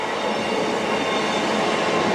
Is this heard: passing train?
yes